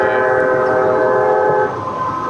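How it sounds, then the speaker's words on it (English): A train passes near a rail line, close by and loud, with a sustained horn blast that cuts off partway through while the rumble of the cars carries on, with no talking. "Sounds like you got a train going by."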